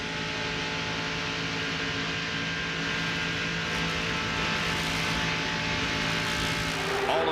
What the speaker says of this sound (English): you can hear Mark Martin's engine never backed off the accelerator